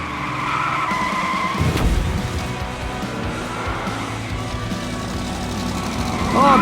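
Hot Wheels diecast race cars, including a BMW, skid and slide along a toy race track in a tournament race, a continuous close rattling whir with a sharp skid near the middle and a louder burst at the end.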